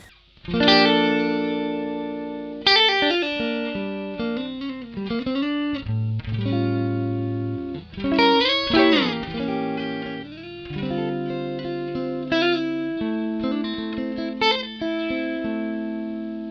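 An electric guitar plays through an Ibanez ES3 Echo Shifter analog delay pedal set to slapback. Plucked notes and short phrases each carry a quick, warm repeat, with some slides and bends, and there is no talking.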